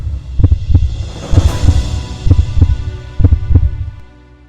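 A heartbeat sound effect thumps in deep, booming double beats, lub-dub pairs repeating at a steady pulse over a low droning hum, loud and close.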